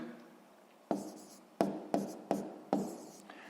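Numbers being written by hand during a sixth-grade math subtraction exercise, heard as five or six distinct close taps and strokes of a pen or chalk at an uneven pace, with quiet pauses between them.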